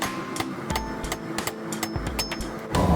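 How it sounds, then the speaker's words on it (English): A blacksmith cuts hot metal off on a hot cut hardy, with a steady series of sharp metallic hammer strikes ringing close by, roughly evenly spaced, with a louder clatter at the end. "you can use the hot cut hardy to just cut this thing off quick and easy"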